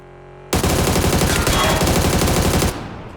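Sustained automatic gunfire from the battle royale game PUBG, a loud, dense burst of rapid shots that starts abruptly and runs for about two seconds before cutting off, with no speech over it.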